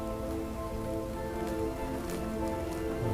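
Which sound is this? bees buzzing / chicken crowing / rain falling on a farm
rain falling on a farm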